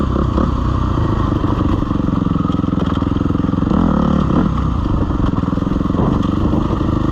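A dirt bike ridden over rocky trails, its engine droning loudly and steadily up close, with rattling and clattering from the rough ground.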